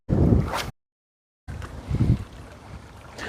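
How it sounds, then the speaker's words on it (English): Gusty wind buffets the microphone on a fishing boat, rough low rumbling in bursts with a short gap of near silence between them. "Here comes that wind."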